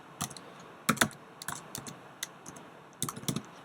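Close, crisp clatter of typing on a computer keyboard while programming in Python, irregular bursts of keystrokes with short pauses between them, no voices.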